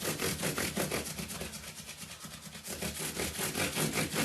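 A left-handed Fender Jazz Bass being polished by hand with 1800-grit micro mesh pads: steady, close back-and-forth rubbing strokes in an even rhythm, with a brief lighter pause midway.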